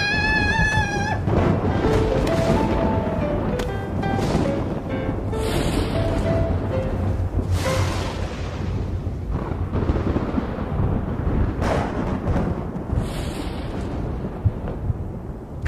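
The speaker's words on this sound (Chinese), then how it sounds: "这么好的天怎么会打雷啊？" Thunder rumbles as a deep, continuous roar lasting the full stretch, loud and broad with swelling surges, with music tones layered over it early on and no speech.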